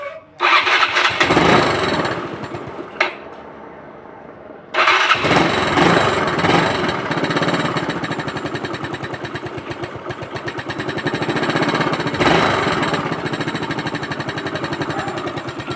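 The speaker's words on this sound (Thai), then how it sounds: "โอเคครับเพื่อนๆเดี๋ยวเรามาลองสตาร์ทดูนะครับ" A Yamaha Fino scooter with a swapped-in carburetor, 35 jet and 100 fuel, fires up after a brief crank, stalls, then restarts and holds a loud, close, steady buzzing idle with occasional revs.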